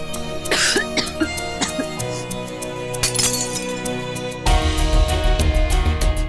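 A woman coughs in a TV drama scene, with a few harsh coughing bursts over soft background music and light glassy clinks, then a louder, denser stretch of sound.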